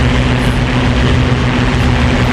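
Steady, loud drone of a warbird propeller aircraft engine in the DCS flight simulator, a continuous dense roar with a low rumble that holds evenly throughout, no voices.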